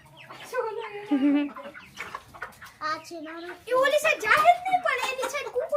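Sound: rooster

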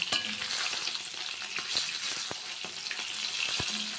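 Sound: hilsa fish frying in oil

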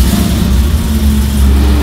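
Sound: 6.2 liter supercharged V8 engine revving

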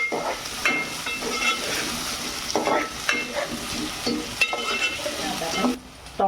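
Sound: onion frying in a pan

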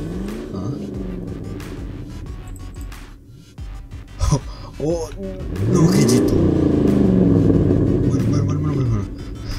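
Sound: super car engine in Survivalcraft 2 video game

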